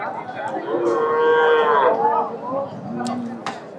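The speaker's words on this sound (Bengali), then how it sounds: "বাজারে অনেক গরু আসছে আজকের হাটে" Cattle at a cow market, likely Sahiwal or cross-bred bulls, give one loud, close, drawn-out moo, with a fainter lowing after it and market noise behind.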